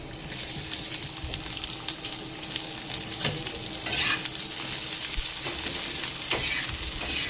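Steady sizzling of onions frying in a spoonful of oil on a flat griddle, with occasional scrapes and stirring clicks, close and continuous throughout.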